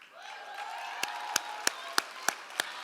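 A sparse series of single, evenly spaced claps from an audience welcoming a judge at a charity challenge finals, with a thin ringing tone held underneath throughout.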